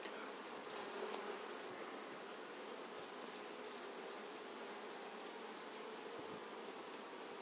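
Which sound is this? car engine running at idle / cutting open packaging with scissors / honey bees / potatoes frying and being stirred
honey bees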